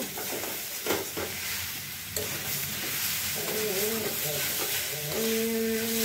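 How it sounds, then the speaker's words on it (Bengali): Carrot halwa being stirred in a pan, with scraping strokes and a soft sizzle, and a low cow-like moo or hum sustained near the end. "এরকম নাড়াচাড়া করতে হবে অনেকক্ষণ ধরে"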